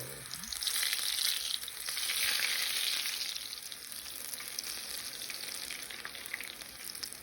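Funnel cake batter crackles and sizzles steadily in hot oil, a bright, busy frying hiss that swells and eases slightly without any talk.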